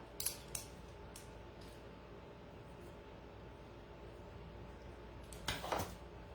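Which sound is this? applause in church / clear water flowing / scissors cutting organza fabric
scissors cutting organza fabric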